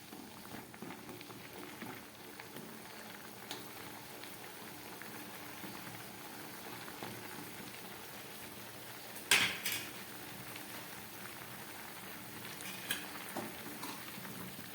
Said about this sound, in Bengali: রসটা ফুটে উঠেছে, আমি এবার গ্যাসটাকে বন্ধ করে দিলাম।